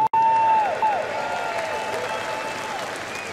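Audience applause at the opening ceremony of the 94th Lions Clubs International Convention in Seattle, a steady wash of clapping from a large crowd, loud and sustained under a faint tonal hum that runs through the clip.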